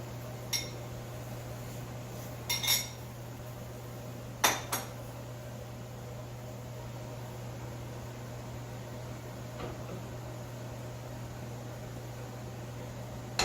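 A spoon stirring chicken sauce in a pot gives a few sparse, light clinks and scrapes, spaced seconds apart, over a steady low hum of kitchen background noise.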